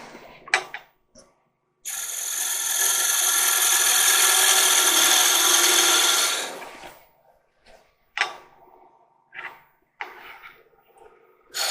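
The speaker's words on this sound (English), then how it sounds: "this is spindle turning, so you're always cutting downhill on the grain." Wood lathe spindle turning on a long-stem goblet, with a steady loud scraping cut lasting about five seconds, followed by a few brief lighter tool touches against the spinning wood.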